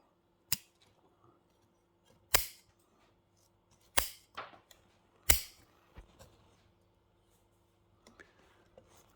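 Pruning shears snipping bonsai branches and twigs, four sharp close cuts spaced a second or two apart, then a few softer clicks, with a quiet room between them.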